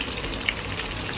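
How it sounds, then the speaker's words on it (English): Mackerel deep frying in hot oil for lunch, giving a dense, steady sizzle and crackle like heavy rain, close and fairly loud with one brief sharper pop. "is a mackerel fish fry for a lunch"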